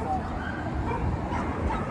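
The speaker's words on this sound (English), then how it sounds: "they've got a lot of dogs in there running around" Dogs yipping and whimpering at a dog daycare, heard from outside amid steady street background noise, with a person talking over them.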